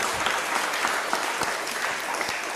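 Steady applause from an audience at a talk, dense clapping sustained throughout at an even level with no voices over it.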